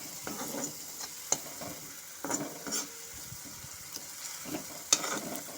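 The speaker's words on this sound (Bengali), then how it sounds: "লবণ দিয়ে ভালো মতো করে পেঁয়াজের সাথে মিশিয়ে নেব।" Drumstick flower paste being stirred with onions and salt in a pan over medium heat, soft sizzling under irregular scraping strokes and a few sharp clinks of a spatula.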